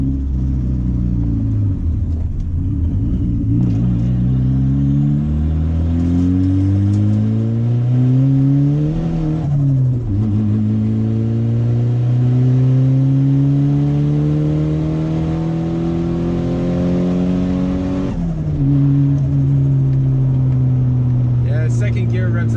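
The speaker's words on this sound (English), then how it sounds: "first gear just absolutely rips the tires off." A modified turbocharged car pulls hard in first gear, engine note climbing steadily and loudly through repeated rising sweeps with brief pauses at shifts, close and sustained throughout.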